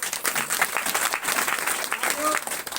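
A crowd at a silver star recognition speech claps loudly and continuously for a few seconds, a dense wash of hands with a voice faintly present underneath.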